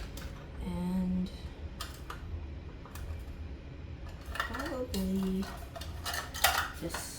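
Metal measuring cups clink and scrape against containers while scooping ingredients for homemade skin care, giving scattered close taps and rattles amid a low room hum, with a brief murmured word.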